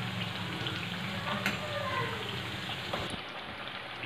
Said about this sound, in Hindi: इसलिए धीमी आंच पर पका दें कि ये अंदर से कच्चे भी ना रह जाएं